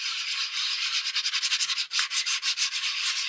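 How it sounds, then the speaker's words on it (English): Close, scratchy rubbing of a sanding block on a painted surface, steady at first, then in quick rhythmic back-and-forth strokes. "you're going in with your sanding block again"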